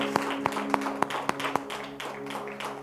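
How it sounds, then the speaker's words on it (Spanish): Church congregation clapping in a regular rhythmic beat, about seven sharp claps over a sustained musical drone, fairly faint and soon fading. "Dale un fuerte aplauso a la presencia de Dios."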